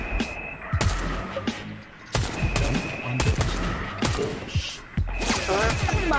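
Sniper and automatic gunfire in a Fortnite match, a series of loud, sharp shots and bursts at irregular intervals, some close and punchy, others rattling in quick volleys, with ringing echoes between them and no talking.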